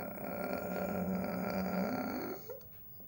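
A human voice imitates a big door creaking open: a sustained, loud, low groaning tone held for about two and a half seconds, then fading out with a short final creak.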